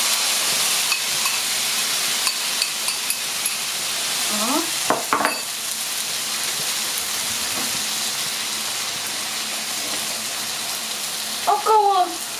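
Tomato sauce poured over meatballs sizzling in a frying pan on a gas stove, a continuous crackling sizzle with a few splashy bursts and clinks, and a voice briefly heard.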